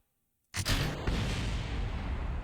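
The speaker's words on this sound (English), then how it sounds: "We're going to have some explosions here." Explosions in the video game Kerbal Space Program: a sudden loud boom breaks a near-silence, then a dense roaring rumble carries on steadily to the end, with a second crack about half a second after the first.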